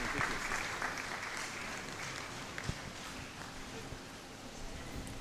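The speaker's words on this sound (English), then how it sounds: "Let's sustain the applause." An audience at a school science and technology fair applauds, a steady, fairly distant wash of clapping that holds evenly throughout, with some speech mixed in.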